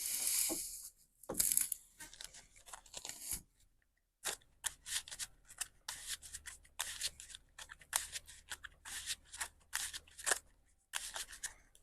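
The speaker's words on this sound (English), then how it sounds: "All right, that is good and shuffled." Trading cards for a tabletop card game are shuffled by hand, a long run of quick crisp riffling and flicking bursts with brief pauses, close and fairly soft, with no talk.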